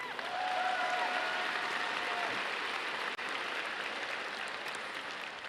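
A large audience at a high school commencement ceremony applauds in a sustained, even wash of clapping, steady and moderately distant, easing slightly toward the end.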